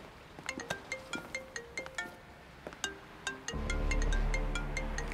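A phone rings with an incoming call, repeating bright electronic ringtone notes in a steady pulsing pattern, then a louder, fuller tone with a low hum takes over near the end.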